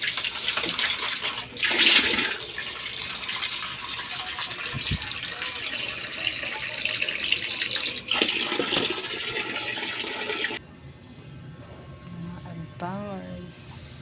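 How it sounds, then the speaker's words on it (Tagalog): Water gushing steadily from a running tap indoors, loud and continuous with splashy bursts and a brief clatter, then cutting off to a quieter room near the end. "Tubig."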